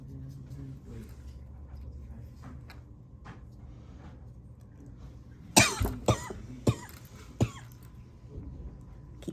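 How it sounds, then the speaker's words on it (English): Several sharp coughs in a quick cluster, with a couple more after short pauses, over a faint room background. "Keep coughing."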